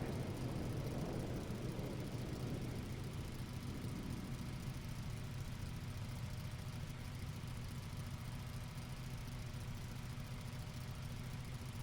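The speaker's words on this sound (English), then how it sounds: "F-18, very loud." Jet engine roar of an F-18 in Microsoft Flight Simulator, a loud continuous low-pitched rumble with a brighter whoosh fading over the first few seconds, then a steady drone throughout.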